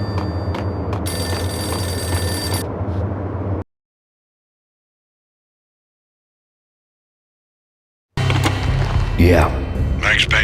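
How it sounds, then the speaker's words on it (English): Payphone in the Max Payne video game ringing in a burst of repeated bell tones, then dead silence for several seconds before more game sounds and a voice resume; fairly loud and close. "Payphone started to ring."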